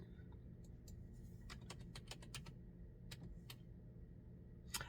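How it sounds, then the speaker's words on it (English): Faint keystrokes on a computer keyboard come in short, quick bursts of crisp clicks over a low steady room hum, with no voices. "I'm going to type rejected in."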